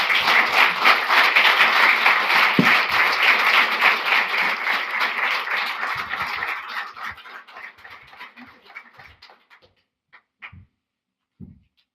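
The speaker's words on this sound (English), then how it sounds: "Round of applause for our speaker." Audience at a talk applauding the speaker, a dense burst of clapping that holds steady for several seconds, then thins out and fades to a few scattered late claps.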